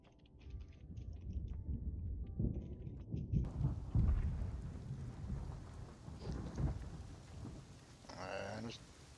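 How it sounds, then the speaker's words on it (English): Rain and rolling thunder from a storm in the Rust video game, with steady rainfall under low booming rumbles that swell and fade, plus a few soft clicks, and no talk. "It's raining."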